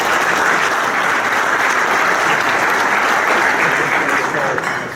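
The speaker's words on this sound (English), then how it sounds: "give them a nice round of applause" Dense, loud applause from a luncheon audience at an annual valor awards event, sustained clapping that holds steady before tapering off at the very end.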